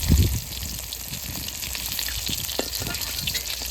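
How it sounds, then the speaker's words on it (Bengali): Chital and rohu fish pieces frying crisp in hot oil, a loud bubbling sizzle that swells at the start and then crackles steadily up close, no speech. "একটু কড়া ভাজা করে নিলাম মাছগুলো"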